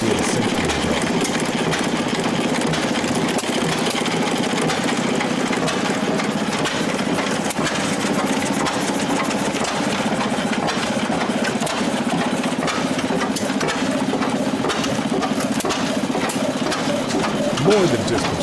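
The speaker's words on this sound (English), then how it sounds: "Hearing these engines run under load offers a vivid look at how they powered saws, dryers," Historic diesel engines run steadily under load through belt-driven systems powering saws and dryers, with a continuous dense mechanical chugging and clatter throughout, fairly loud, while a narrator speaks over it.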